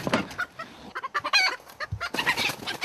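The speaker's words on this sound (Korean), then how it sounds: "그때 닭 한 마리가 필사에 탈출을 한다." Chickens kept as pets, moved along when their owners change house, clucking and squawking close up in a busy, uneven flurry of short calls, with no talk.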